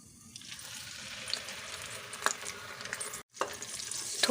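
Raw ground onion paste fries in hot oil spiced with garam masala, giving a moderate, steady sizzle with occasional spoon scrapes and a brief break before the frying resumes.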